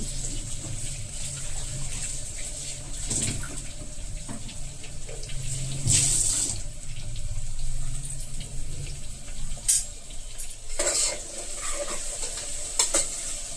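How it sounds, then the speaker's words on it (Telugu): Mutton pieces sloshed and rubbed by hand in water with salt and turmeric, giving repeated wet splashes and stirring sounds. Occasional clinks of a vessel come through at a moderate, steady level with no talking. "ఉప్పు, పసుపు వేసిన మటన్ కడిగేస్తాను"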